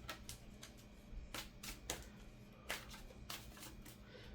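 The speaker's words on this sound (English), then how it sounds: "One more shuffle, my bad." Cards are shuffled in several quick riffling bursts, crisp and close, separated by short pauses in an otherwise quiet room.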